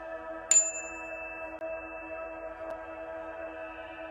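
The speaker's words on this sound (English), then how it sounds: "I've got some nice meditation chimes here." Meditation chimes give a single bright strike near the start, its clear tone ringing on and slowly fading over a steady humming drone, with a faint second touch later.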